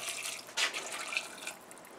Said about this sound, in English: And now I'm going to add 2 cups of water.